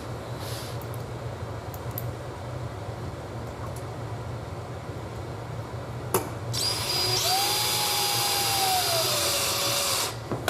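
A power drill whines steadily over a low background hum, then a louder high-pitched burst for a few seconds driving anchors into a wood subfloor before stopping.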